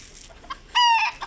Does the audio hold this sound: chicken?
yes